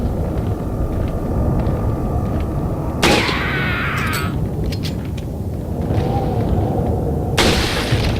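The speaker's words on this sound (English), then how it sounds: "Critical hit. Head explosion." A head bursts in Resident Evil 4 HD: a sharp, loud blast punctuates steady game background noise, followed later by another burst, with no talking over the sounds.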